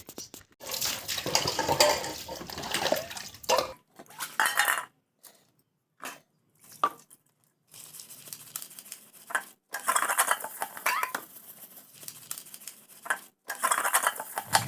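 Dishes are washed by hand with water: pots and cutlery clatter in intermittent bursts, mixed with splashing and running water, close by and with no talk.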